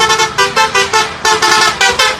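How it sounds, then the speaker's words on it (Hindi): A loud bus horn honks in a rapid series of about nine short blasts, close and insistent, with no voices. "हॉर्न की आवाज सुनाई देती है।"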